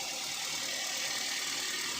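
A 2012 Daihatsu Xenia engine idles smoothly and evenly, heard as a steady, unbroken hum with a hissy edge and no rises in speed.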